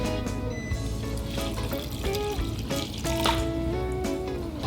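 Water poured into a blender over almonds and brown rice for a Chinese almond soup dessert, a steady close trickle and splash with faint dripping, no speech.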